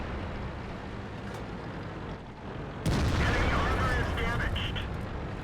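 A tank cannon booms in World of Tanks at about three seconds, a loud sudden blast over steady engine rumble and battle noise, with a brief whine after it.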